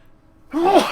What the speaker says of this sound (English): I gotta sneeze just a second